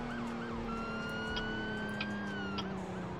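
Police car siren wailing in a steady rising and falling tone inside the Roblox game ER:LC, fairly faint and distant, holding continuously with no talking.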